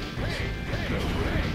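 In the Mega Man ZX Advent video game, a boss smashes an ice platform, giving a short, dense crash with a heavy rumbling low end that carries on steadily to the end.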